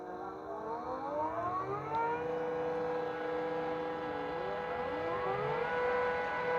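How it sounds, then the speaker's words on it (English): Electric water pumps running on a kayak give a continuous motor whine whose tones slowly slide up and down in pitch, fairly quiet and steady with no talking. "I hear pumps."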